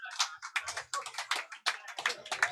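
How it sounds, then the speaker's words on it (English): Sparse, polite golf clap from a small audience at an arm wrestling championship, a handful of light claps in uneven rhythm, close and thin. "Golf clap. You love to hear a golf clap at an arm wrestling."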